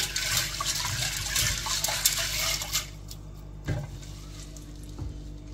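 Water running and splashing while oxtail is rinsed in a kitchen sink, a steady wash of pouring water that thins out halfway through, with a few brief splashes and clunks afterward.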